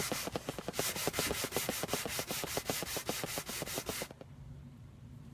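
Hand sanding on a wooden prop gives a fast, even rasping back-and-forth of rhythmic strokes, close and steady for about four seconds, then it stops, with no talking.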